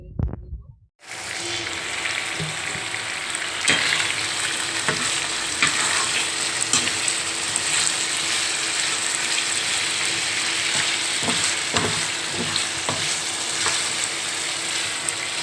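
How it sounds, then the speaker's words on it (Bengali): Chicken pieces being sautéed (kosha) in a covered pan for a layered chicken curry with masoor dal, a steady close sizzle and fry with occasional stirring scrapes, with no talk. "মাংসটা ভালোভাবে কষিয়ে নিলাম"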